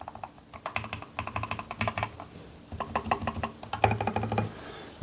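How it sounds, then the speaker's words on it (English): Typing on a semi-custom mechanical keyboard fitted with Gateron Milky Yellow V2 linear switches, a steady run of close, muted keystrokes with a soft thocking bottom-out, slowing briefly midway before resuming, with no talking. "I quite like that sort of thunk noise at the bottom of the button press"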